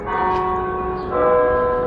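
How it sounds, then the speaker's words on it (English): Church bells ringing in the small town of Grapevine, Texas, a sustained resonant tone with a second strike swelling partway through, moderately loud over faint street ambience. "Church bells."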